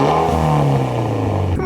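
A straight-piped Mitsubishi Evo X engine revs up loud and close, its deep exhaust note climbing briefly before a sharp change near the end, with some talk mixed in.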